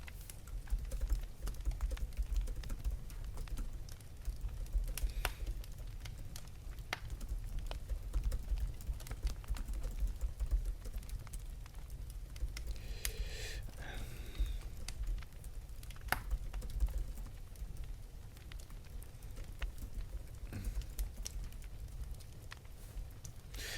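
Quick fingers typing on a keyboard, a continuous patter of soft clicks with occasional louder keystrokes, close and fairly quiet over a low background hum.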